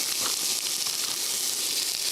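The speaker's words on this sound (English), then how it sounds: "Listen to that sizzle." Ground venison mixed with brisket and pork fat back sizzling in a hot pan, a steady close crackling hiss that stays even throughout with no talk over it.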